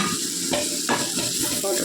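Fish frying in oil in a kadai sizzles steadily and close up, with faint scraping as it is stirred.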